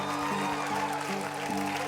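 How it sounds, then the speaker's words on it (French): A church congregation applauds the young people after youth worship, a steady wash of clapping over a sustained musical tone, with faint voices behind. "Vous venez d'acclamer les jeunes."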